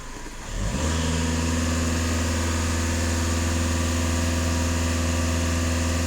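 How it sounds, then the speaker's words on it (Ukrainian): A Skoda Octavia 2.0 TDI EA288 diesel engine rises from idle and is held at steady elevated revs, a loud, close, continuous drone with a strong low hum, running alone without talk. "Зараз зроблю емітацію, що машина їде нібито в ходу, дам просто обертів."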